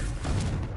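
Confringo, a fiery blasting spell in Hogwarts Legacy, lands as a dull, muffled boom with a short rumbling tail, moderately loud and heard alone.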